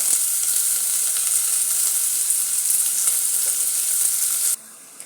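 Onions sizzling and frying in hot oil in a pan for a pigeon and potato curry, a steady close hiss throughout that cuts off abruptly near the end.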